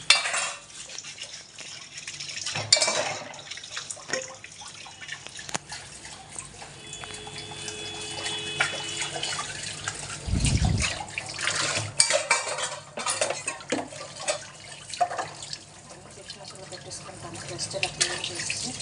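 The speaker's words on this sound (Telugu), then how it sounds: "జస్ట్ వాష్ చేసి డిష్ వాషర్లో అయితే పెట్టేస్తానండి." Dishes and glasses rinsed under a running kitchen tap before going into the dishwasher, with steady water flow, clinking plates and cutlery clatter close by, and someone speaking over it.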